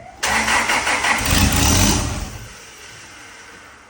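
A car engine, being readied for a dyno session, starts abruptly and revs hard, the roar swelling for about two seconds before settling back to a lower idle that fades slightly.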